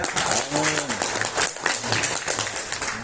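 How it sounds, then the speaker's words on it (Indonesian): Audience applause at a talk on Hajj pilgrimage quotas, a steady wash of clapping filling the whole stretch, with a faint voice briefly heard over it near the start. "Tepuk tangan."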